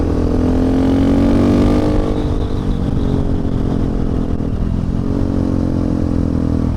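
A 2019 KTM 690 or Honda Africa Twin motorcycle with a slipper clutch on a ride, a loud close engine drone that rises early on, then settles into a steady rumble with wind and road noise.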